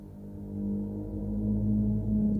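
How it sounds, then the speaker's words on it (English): Minecraft's underwater ocean ambience (the Dark4 track) plays as a steady, deep, moaning drone, low and rumbling with a sustained tonal hum that slowly swells in loudness over a couple of seconds. "This is a playlist of sound effects in Minecraft Ocean, but listen closely."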